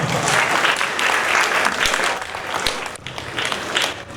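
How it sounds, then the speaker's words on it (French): Dense, loud audience applause fills a large outdoor gathering for Africa Day at the African Renaissance Monument, steady broadband clapping that dips briefly near the end before swelling again. "sous vos applaudissements"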